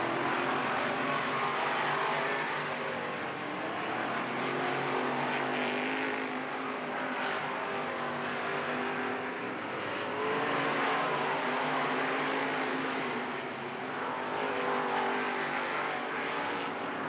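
Modified race cars roar around the Lernerville Speedway dirt oval in 1994, a sustained engine drone that swells and fades as the pack passes, heard from a distance without talk.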